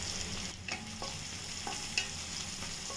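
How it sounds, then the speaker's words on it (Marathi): Chopped onion, cumin and curry leaves with a pinch of asafoetida sizzle in hot oil in a kadhai, a steady close crackle broken by a few stirring scrapes of a spoon, with no one talking. "कांदा चांगला फ्राय झाला"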